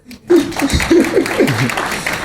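An audience claps at a club presentation event: loud, dense applause breaks out abruptly after a brief quiet start and carries on steadily, mixed with scattered cheering voices.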